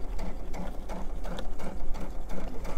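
A domestic sewing machine runs steadily, stitching the seam of a fabric elephant stuffed animal, with short bursts of rapid mechanical whirring and clatter that pause briefly between runs, close and alone.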